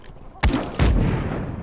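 Two heavy booms roughly 0.4 seconds apart roll out into a long rumbling wash as a fuel tank blows up in the video game Just Cause 3, loud and close with no talking.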